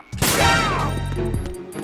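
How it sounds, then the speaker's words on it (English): A gunshot in the Metal Gear Solid 2 video game: one sharp, loud blast that rings out and fades over a second or so, with game background sound underneath. "Gunshot."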